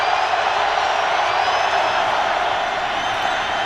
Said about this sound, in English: The Ravens faithful, cheering on their defense.